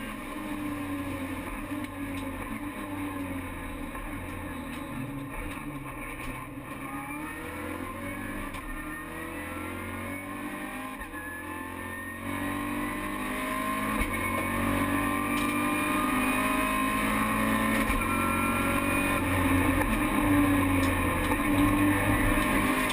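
Peugeot RCZ race cars lapping the Magny-Cours circuit, a steady loud drone of several engines with shifting pitch that swells louder toward the end, with no voices.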